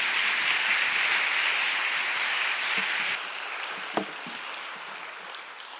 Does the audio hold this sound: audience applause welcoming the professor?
yes